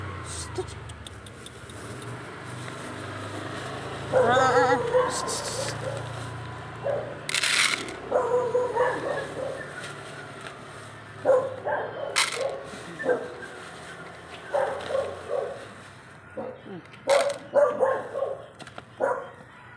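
A dog whimpers and gives short barks amid shuffling and clattering nearby, with occasional voices in the background.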